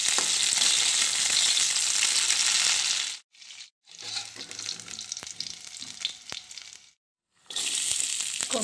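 Coriander seeds and chillies fry in a pan, a bright crackling sizzle with stirring scrapes, broken by two brief silent gaps before the frying resumes loudly.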